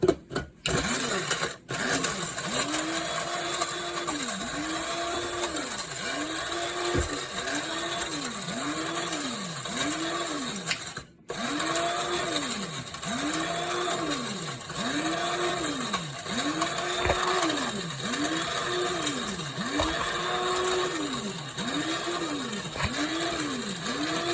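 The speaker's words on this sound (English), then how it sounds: "now let's grind it again" An electric spice grinder runs continuously, grinding homemade biryani masala, its motor pitch rising and falling in a steady repeating cycle as the spices tumble, with two brief stops along the way.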